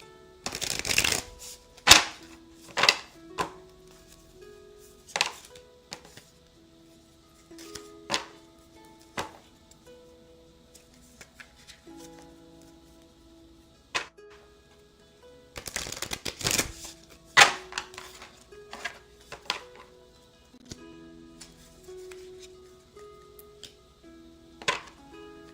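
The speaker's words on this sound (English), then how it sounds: "do one more shuffle" Tarot cards are shuffled by hand in repeated bursts of riffling and tapping, some loud riffles and many softer slaps, spread across the stretch with soft music faintly underneath.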